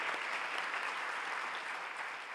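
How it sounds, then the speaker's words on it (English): Audience applause at a high school National Honor Society induction ceremony, an even, sustained round of many hands clapping from a seated crowd, moderately loud and unbroken throughout. "Let's give Mr. Surratt a round of applause for his dedication."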